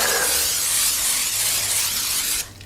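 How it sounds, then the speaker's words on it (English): A steady, hissing spray from a can of non-stick cooking spray into a baking dish runs for about two seconds at close range, then cuts off abruptly. "I'm going to spray the inside of my baking dish"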